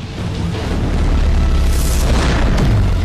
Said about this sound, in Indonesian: Sayangnya dia justru terkena ledakan dari kapal tersebut.